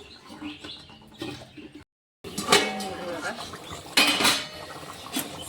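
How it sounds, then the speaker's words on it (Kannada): A lid set down on a pot of green chilli chicken gravy (chicken sukka), giving a couple of sharp metallic clanks against kitchen background noise and faint voices. "ಇದನ್ನು ನಾನು ಮೇಲ್ಗಡೆ ಮುಚ್ಚಿ ಒಂದು ಸ್ವಲ್ಪ ಕುದಿಸ್ಕೋತೀನಿ"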